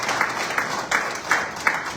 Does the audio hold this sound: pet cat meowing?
no